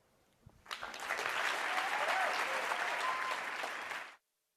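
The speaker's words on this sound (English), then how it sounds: "Are you clapping your hands too?" Sustained applause from an audience at a justice-themed event, rising quickly to a steady dense roar of many hands clapping, then cutting off abruptly.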